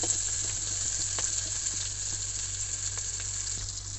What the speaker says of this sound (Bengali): পেঁয়াজ মরিচটা সিদ্ধ হওয়া পর্যন্ত ভেজে নিচ্ছি